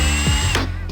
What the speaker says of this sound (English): Getting this step drill bit, this one, definitely made the job so much easier